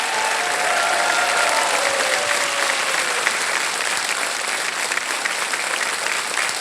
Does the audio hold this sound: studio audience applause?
yes